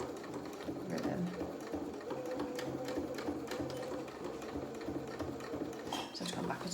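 A sewing machine stitches backwards and forwards over pinafore straps, running steadily and close up with a continuous whirring rhythm for the whole stretch.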